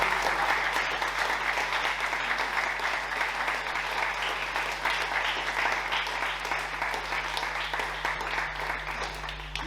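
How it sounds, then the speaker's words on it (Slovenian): Audience applauding a musician on stage at the Golden Pears festival, a steady, dense wash of clapping from many hands that holds evenly throughout, with a constant low hum beneath. "Pa zaploskamo še enkrat našemu glasbeniku."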